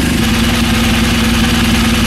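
A BMW R1200/R1250 GS motorcycle engine runs at a steady idle, loud and close, with a constant low throbbing hum that cuts off abruptly at the very end.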